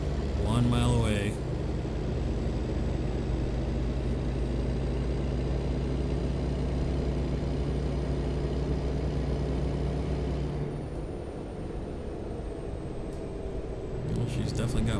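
Kenworth truck with an upgraded 600 HP engine pulling into high gear: a loud, low, steady engine drone holds throughout, easing briefly near the end as the gear changes, with someone talking over it.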